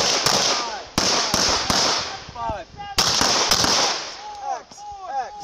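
Sharp gunshots crack in quick irregular bursts at a shooting range, some close and loud, with people's voices heard faintly between the shots.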